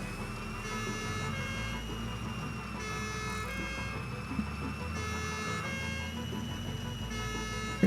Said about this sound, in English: Yeah, the little siren is great.